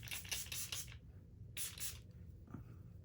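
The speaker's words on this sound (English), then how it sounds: "And let me spray Prime and Fine." Prime and Fine setting spray misted onto a face, heard as a burst of several quick hissing sprays close up, a pause, then a second burst of sprays, with a faint tap near the end.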